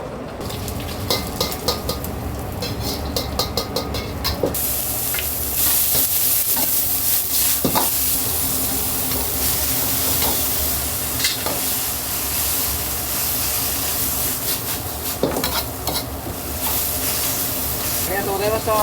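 Food is stir-fried in a wok in a busy Japanese restaurant kitchen, with a steady sizzle and hiss running throughout, rhythmic clanks of the pan being tossed, and kitchen clatter and voices in the background.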